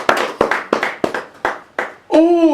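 A church congregation claps to acclaim the Lord in a sequence of about seven separate, evenly spaced claps, followed by a voice.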